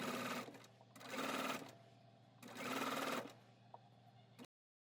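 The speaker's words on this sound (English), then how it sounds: "Sew around the top 1/8 inch from the edge, closing the hole and making the edge look crisp and neat." A sewing machine stitches along the top edge of a fabric trick-or-treat basket, running in two long loud bursts separated by short pauses, close by and with no talking.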